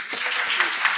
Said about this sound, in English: I'd like to just give a round of applause to Gordon Price